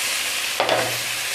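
Chopped vegetables drop into a pan of fried onions for a paneer curry, turning a steady close sizzle into a sudden louder hiss and a brief stirring scrape before it settles again.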